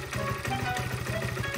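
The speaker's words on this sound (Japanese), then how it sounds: "少々アイドリングが不安定な気もしますが、温まっていないのでこんなもんなのかな？" Honda Cub motorcycle engine idling unevenly while still cold, giving a close, rapid mechanical putter with a slightly irregular beat, alone without talk.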